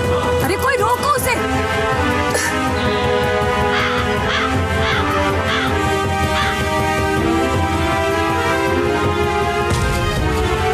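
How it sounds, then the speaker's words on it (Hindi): A crow caws several times while chasing an apple, its calls layered over a steady musical backdrop and voices talking throughout. "एक एप्पल के पीछे कौवा भाग रहा है।"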